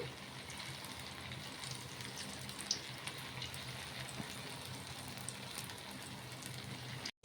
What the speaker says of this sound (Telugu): పెట్టేసుకొని నిదానంగా ఇలా వేయించుకోవాలి